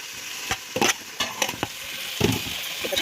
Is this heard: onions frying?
yes